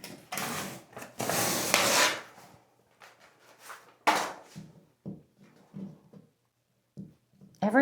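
Old floor-to-ceiling wallpaper torn from a 1980s bathroom wall in long, loud ripping pulls, followed by shorter, quieter scraping and peeling tugs with pauses between them.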